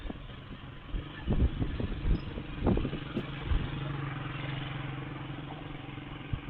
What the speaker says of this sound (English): That sounds like a motorcycle.